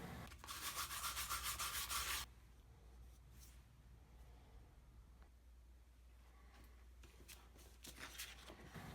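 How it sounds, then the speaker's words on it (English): Loud, steady scratchy rubbing of sandpaper for about two seconds, then quieter scattered scuffs and light rubbing follow. "sand it off with 120, 220, and 400 grit sandpaper"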